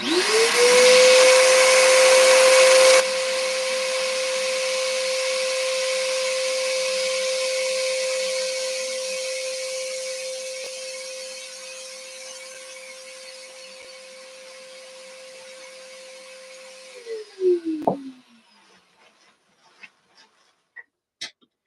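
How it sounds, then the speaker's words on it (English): A vacuum cleaner runs nearby during weaving and carding work, a steady whining motor hum that holds for a long stretch, then winds down and cuts off with a few clunks at the end. "sometimes I do that and I vacuum at the same time."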